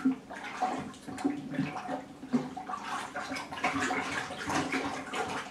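A small spatula stirs water in a container while growing a green superfood indoors, making continuous sloshing and splashing waves with rhythmic surges, close and fairly loud.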